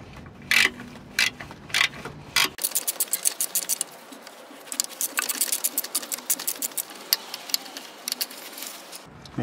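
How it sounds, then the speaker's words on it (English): A ratchet wrench loosens a bolt on a transmission oil pan, giving rapid close-up clicking bursts with a few louder clacks early on, then a long steady run of fast ticking ratchet strokes. "Once it sits on it, we can now remove the bolt."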